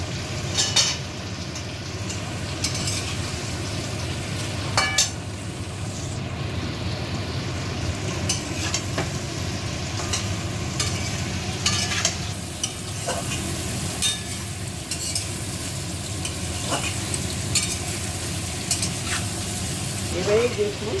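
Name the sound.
frying and stirring jackfruit and fried potato in pan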